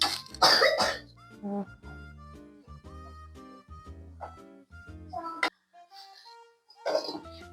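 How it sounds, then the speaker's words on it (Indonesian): Someone ill at home coughs in a harsh burst at the start, then gives scattered shorter coughs and throat noises close by against a quiet household background. "Kalian denger gak sih, tuh batuk kan kayak gitu."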